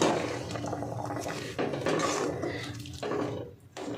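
A spoon scrapes and clinks in a pot as semolina and hot milk are stirred together over a low flame, a close series of uneven stirring and knocking sounds.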